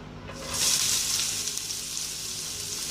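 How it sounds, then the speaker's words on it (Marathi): Onion and ginger-garlic paste hit hot oil and fry with a loud, bright sizzle that swells quickly after a moment and then holds as a steady hiss. "आलं लसणाची पेस्ट आणि कांदा दोन्ही एकत्र टाकते मी. भाजून घेऊया तेलामध्ये."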